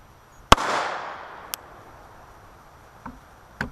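A single sharp gunshot from a .45 Super pistol loaded with H110 powder cracks close by and rings briefly into the surroundings, followed by a couple of faint clicks.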